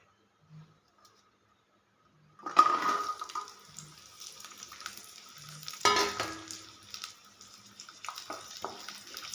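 After a couple of quiet seconds, a loud sizzle bursts out as peeled onions hit hot oil in a pan, then keeps crackling and hissing with scraping stirring noises.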